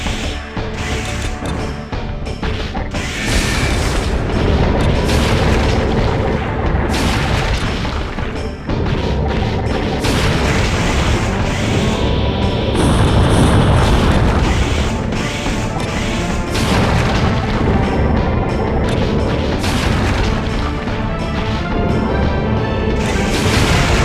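Heavy bomb explosions boom through a mech battle in the video game Armored Core 2, with repeated loud blasts and crashing metallic impacts layered over a dense, continuous din.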